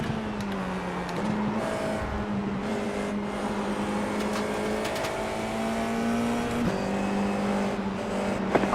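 FIA F4 race cars at Spa-Francorchamps heading into Bruxelles, heard from onboard as a loud, sustained high-revving engine drone with shifting pitch and brief gear-change dips, and no talking.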